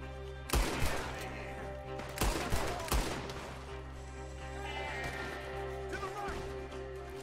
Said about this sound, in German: Wie viele Schüsse halten die denn bitte immer aus?